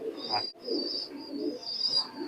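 A young high-flying pigeon of imported bloodline coos softly from a loft, low rolling murmurs repeating over about two seconds with a steady hiss in the background and no talk.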